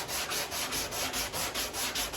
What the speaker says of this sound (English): And it sands very well.